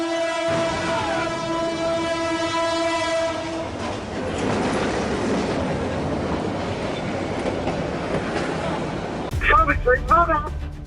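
A train sounds a long, loud horn at a railroad crossing in Middlesex County, New Jersey, then thunders past with a heavy, steady rumble and rattle, and brief voices come in near the end.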